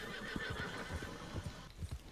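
A horse in Red Dead Redemption 2 neighs and whinnies loudly up close, with hooves clip-clopping and thudding in an irregular rhythm beneath it, and no speech.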